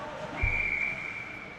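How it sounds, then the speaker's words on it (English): A referee's whistle blows once at a Wake Forest versus High Point Division 2 college ice hockey game in Winston-Salem, a sustained shrill tone lasting under a second over steady arena crowd noise. "And a whistle with 5:37"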